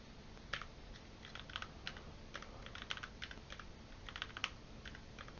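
Quick bursts of typing on a computer keyboard, close and quiet, uneven clusters of key clicks with short pauses between them, no speech.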